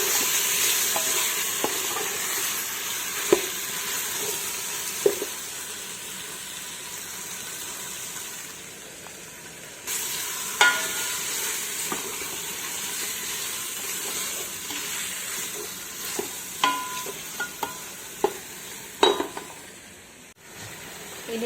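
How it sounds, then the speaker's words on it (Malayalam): Marinated chicken frying in a pot for biryani, with a steady broadband sizzle and repeated scraping clicks and knocks of a spoon stirring, no voices, running continuously for about twenty seconds. "ഇനി ആ മെറിനേറ്റ് ചെയ്ത് വെച്ച ചിക്കൻ നമ്മൾ ഇട്ട് കൊടുത്തു."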